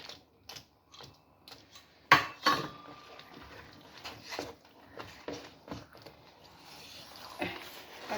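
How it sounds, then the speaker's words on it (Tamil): Dodol mixture is stirred in a pan, heard as irregular knocks, scrapes and clacks of a utensil against the pan, with quiet gaps between strokes. "இன்னும் நல்லா கிளறும்."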